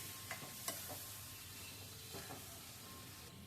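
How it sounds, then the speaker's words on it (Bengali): Cauliflower tipped into a hot pan of spiced oil and stirred, giving a steady close sizzle and hiss with a few soft utensil scrapes throughout. "এবার কপিটা ছেড়ে দিলাম, কপিটা ছেড়ে দিয়ে একটু নেড়ে ছেড়ে তারপরে ঝোলটা দিয়ে দেব।"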